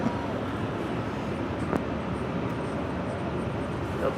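An American Airlines Boeing 737-800 departing from runway 25 right at LAX, bound for Austin, heard as a continuous broad jet roar at moderate distance, steady and unbroken, with no talk.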